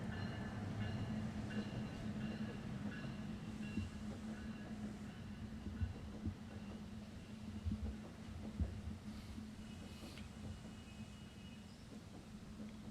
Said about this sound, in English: I'll let the train go by.